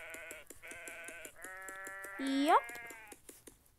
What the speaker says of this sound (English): and some sheep.